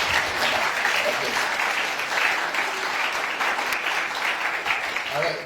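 A room of people clapping for children at a secondary school event, a dense, even burst of applause that holds steady for several seconds.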